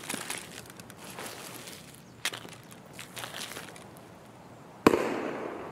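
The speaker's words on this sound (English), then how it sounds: "There's a sniper shot right as I logged out" Distant sniper rifle shot in the Escape from Tarkov video game: one sharp crack near the end, loud against quiet background noise, after a fainter earlier report.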